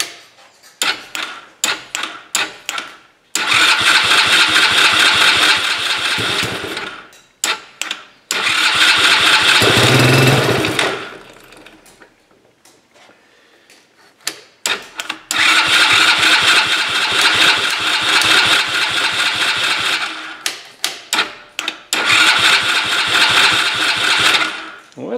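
Tao Tao four-wheeler ATV with a suspected carburetor fuel problem, its engine cranking in repeated rhythmic bursts and briefly catching before dying, loud and close with no talk.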